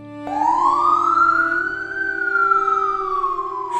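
A siren wails in a single rising and falling sweep, loud and close, with no talk over it.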